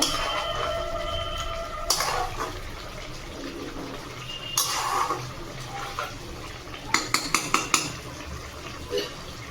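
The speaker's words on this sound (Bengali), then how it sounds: "সেদ্ধ হয়েই গেছে ভালো করে একটু নেড়ে চেড়ে নেব" Butter chicken stirred in a pan, with scraping and clinking of a utensil against the metal, a few sharp clanks bunched near the end over steady kitchen background noise.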